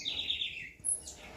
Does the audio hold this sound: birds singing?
yes